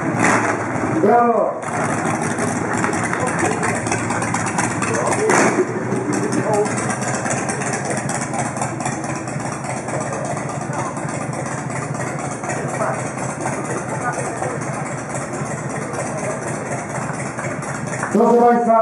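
Motorcycles from a motorbike club idle together at an opening ceremony for an international shooting competition, a steady, loud engine rumble that runs throughout, with brief sounds of engines revving or starting near the beginning and end.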